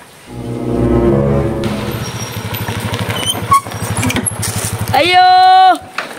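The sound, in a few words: motorcycle arriving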